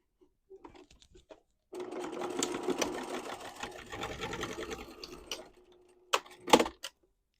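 A sewing machine runs a steady stitching burst of about four seconds across a duffle bag handle, close and clear, with short handling clicks before and after.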